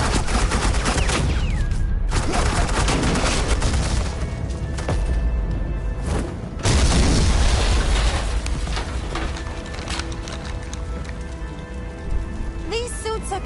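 Sustained suppressing gunfire in the Batman: The Enemy Within video game, a dense, continuous crackling fusillade with a few louder bursts, close and loud throughout.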